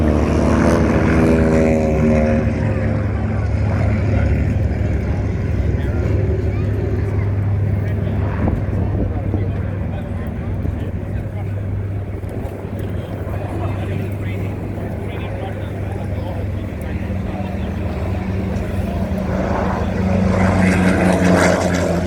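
A Vought F4U Corsair and Grumman Avenger propeller warbird flying at an air show, their engines droning loud and steady with a slowly shifting pitch as they pass.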